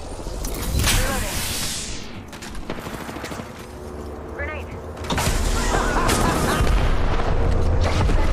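Apex Legends match with gunfire, shots and booms popping through a busy mix of game effects and mechanical clatter, with a voice talking over it at times.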